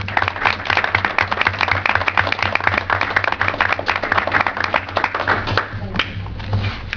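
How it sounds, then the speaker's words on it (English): An audience at a municipal council work session claps together, a dense, steady round of applause that tapers off near the end. "And I would like to just applaud her even more than we did before."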